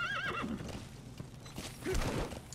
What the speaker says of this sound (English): I think I'm going to call my horse.